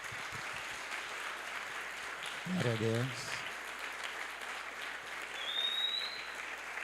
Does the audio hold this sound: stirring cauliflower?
no